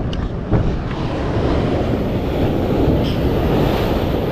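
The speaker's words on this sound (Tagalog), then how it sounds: "lalaki na alon" Big ocean waves break on a Palawan shore, making a continuous loud, close roar of surf and churning water with gusts of wind across the microphone.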